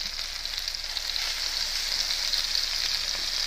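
Eggs frying in a seasoned pan after being flipped, a steady close hiss and crackle of sizzling fat with no talking.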